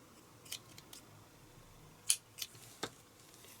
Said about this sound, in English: Then snip off your yarn.